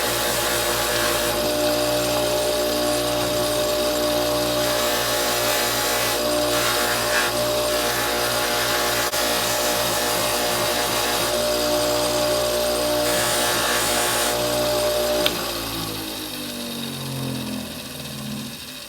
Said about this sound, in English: So I'm going to take it over to the buffing wheel now, and let's do the final polish.